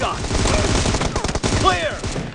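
Gunfire in the mobile shooter game PUBG Mobile, played on an iPad, comes as a loud, dense burst of rapid shots, with a brief voice cutting in partway through.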